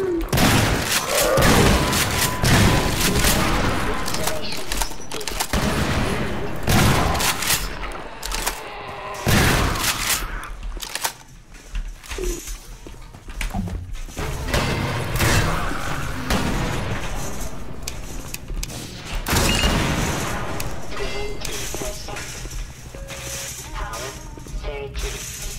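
Gunfire in the game Half-Life 2: Episode Two, remastered with the MMOD mod: loud, dense bursts of shots mixed with booms, thuds and impacts, almost continuous and close, with someone talking over the firing.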